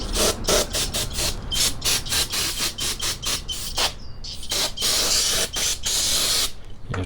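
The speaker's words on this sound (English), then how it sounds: "Just spray a little brake cleaner and clean the" Brake cleaner sprayed onto parking brake shoe parts of a 2000 Chevy S10 ZR2, a series of sharp hissing bursts, short and longer, close up with brief gaps between.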